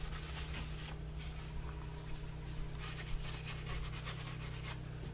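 Cloth wiping excess finish off a leather cell phone belt pouch, a steady close rubbing swish lasting throughout over a constant low hum.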